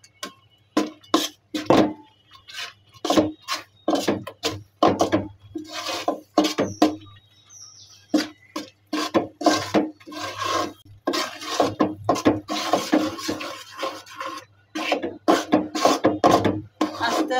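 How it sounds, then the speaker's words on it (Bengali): Rice flour is added bit by bit to a pan and stirred, giving dry scraping and rhythmic tapping scrapes in irregular bursts, close and moderately loud with quiet gaps between strokes. "এখন দিয়ে দিচ্ছি চালের গুঁড়ো"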